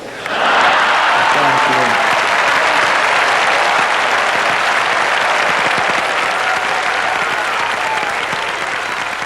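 Sustained applause from a large crowd, loud and steady throughout, with dense clapping filling the whole stretch and a faint voice beneath at the start.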